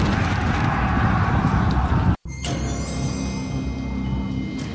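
Carthaginian cavalry horses of Hannibal's army galloping, a steady, dense drumming of hooves that fills the whole stretch, broken only by a sudden instant of silence midway before the thundering resumes.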